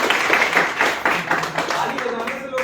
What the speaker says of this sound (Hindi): अच्छा जो लगे उस पर तालियां बजा देना है।